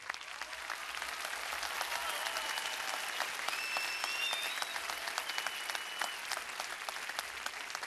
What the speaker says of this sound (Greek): Θα ήθελα ένα δυνατό χειροκρότημα για τον Γιάννη τον Καπετάνιο.